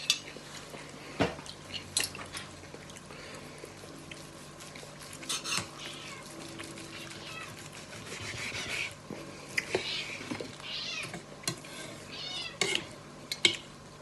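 A cat meows a few times in a farm kitchen where beef brisket is being served, with clinking dishes, cutlery and pans around it and no talk.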